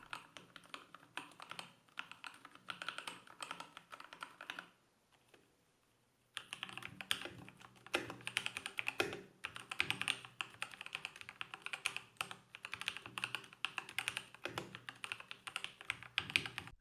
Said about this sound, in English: showing off what it's like to type on this keyboard and also how it sounds